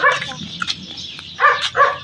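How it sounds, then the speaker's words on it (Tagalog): Several dogs barking and yipping in bursts, fairly close, with a louder cluster of barks near the end. "Puro aso dyan."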